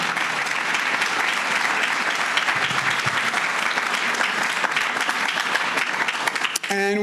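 Audience at a seawall announcement in Staten Island claps in a dense, sustained burst of applause, steady and fairly near, with a voice briefly emerging right at the end.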